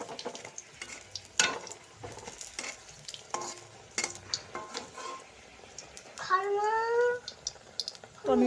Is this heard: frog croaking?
no